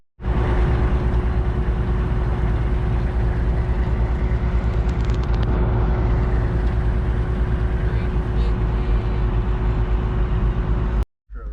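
A farm vehicle hauling a combine head around a field, a loud steady engine drone with a constant low hum lasting until an abrupt cutoff near the end.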